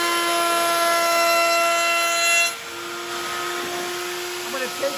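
A router mounted in a table rounds over a board edge, the board pushed along a fence with a miter gauge for a jewelry box; a loud, close, high tonal whine that eases as the cut finishes.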